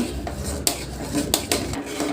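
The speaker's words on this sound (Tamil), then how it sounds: "எல்லாத்தையும் வந்து நல்லா கலந்து விட்டுடலாங்க" A spoon scrapes and clinks against a metal pot while stirring a sago (javvarisi) vadagam mixture, with a few sharp knocks over a steady background hiss.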